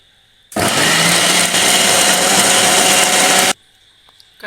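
A mixer grinder runs in one loud, steady burst of about three seconds, coarsely grinding pirandai chutney with small onions, salt and chana dal, then cuts off abruptly into near silence.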